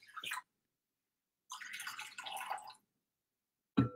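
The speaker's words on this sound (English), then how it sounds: "I'm starting off with water, and I'm going to do about one cup, which is 230 grams of water." Roughly one cup of water poured for pizza dough, heard as two short splashy pours separated by silence, followed by a brief sharp knock or splash near the end. No talking.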